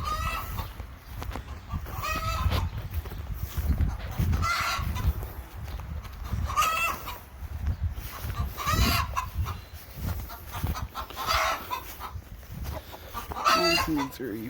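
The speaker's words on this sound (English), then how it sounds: "Chickens are going crazy like they laid an egg." Chickens clucking excitedly in a coop during chicken chores, a busy, continuous chorus of nearby clucks and squawks with occasional louder calls throughout.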